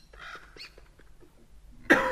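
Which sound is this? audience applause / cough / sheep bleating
cough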